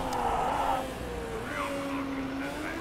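Race car engine in the Motorsport Manager racing game, a steady tonal whine that rises in pitch as the car accelerates, moderately loud and continuous throughout.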